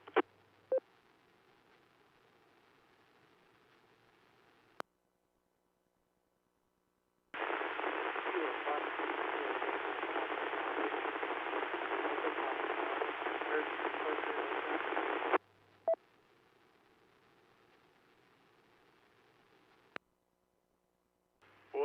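Faint radio audio buried in a steady hiss of static, with brief clicks and a few quiet gaps, then a long stretch of louder broadband noise.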